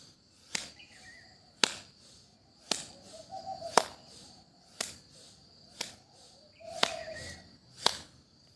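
Sharp hand claps during a yoga breathing exercise, struck overhead and out to the side, ring out singly at roughly one-second intervals, with about eight crisp claps over a quiet room.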